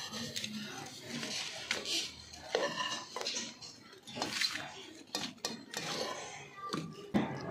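Hot besan barfi mixture is spread across a ghee-greased metal plate, making repeated scraping clinks of a utensil against the plate, close and fairly quiet, with someone talking softly in between.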